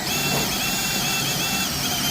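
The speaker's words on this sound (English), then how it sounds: "so we're going to start drilling all these out" Power drill boring out rivets on the rear quarter panel of a 1990 Ford Bronco, a steady high-pitched whine held at constant speed, close and moderately loud, with no talk.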